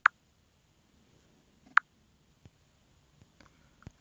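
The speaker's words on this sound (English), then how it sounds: "these are just sounds like touching stuff like the keyboard, or when I lock the screen" A few faint, sparse clicks and taps occur over near silence, two slightly sharper ones followed by softer ticks, Android phone touchscreen, keyboard and screen-lock sounds.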